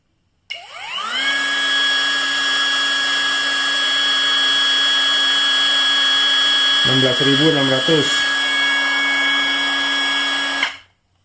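A brushless string trimmer revs up and runs at speed 2, giving a loud, steady high-pitched electric whine that holds even for about ten seconds before spinning down. A brief voice cuts in near the middle.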